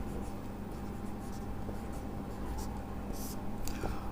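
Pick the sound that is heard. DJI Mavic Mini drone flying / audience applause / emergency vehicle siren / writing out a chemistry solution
writing out a chemistry solution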